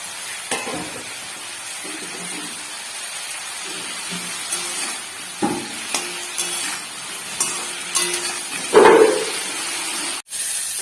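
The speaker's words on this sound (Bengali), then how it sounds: "এবার ঢাকাটা খুলে দিয়ে ফুলকপিটা ফ্রাই করবো।" Steady hiss of cauliflower and potato frying in oil in an uncovered pan, with intermittent scraping and stirring clatters against the pan and a louder sizzle burst near the end.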